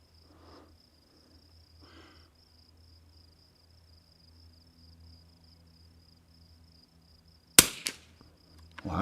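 A single sharp rifle shot from a Remington 40XB firing Eley Tenex ammunition on a rifle rest cracks out near the end, loud and close, after a long stretch of quiet background with a faint steady insect-like whine.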